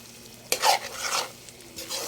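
Bopis, a pork offal dish, frying in a pan while being stirred, with a close scraping stir and bursts of sizzling that rise and fall, no voices.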